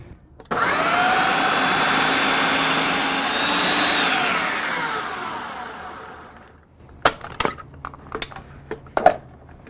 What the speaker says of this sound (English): black pepper, cumin, ground oregano, white onion, pop it in the food processor